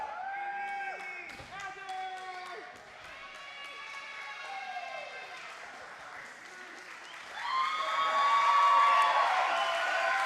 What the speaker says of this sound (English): The crowd showing their appreciation for our stunning referee, Andy.